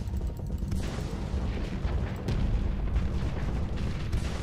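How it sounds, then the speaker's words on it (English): Ship weapons fire continuously in the Starsector space combat game, a dense rumbling barrage of booms and blasts against a vessel, steady and loud throughout with no let-up. "Keep firing at it."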